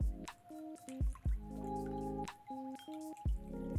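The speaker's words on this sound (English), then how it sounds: "The first step is to fill the internal basin with either contaminated drinking water or seawater." Water is poured into the internal basin of a portable solar distiller, heard as a series of drips, splashes and gurgling trickles with short pauses between them, close and fairly quiet.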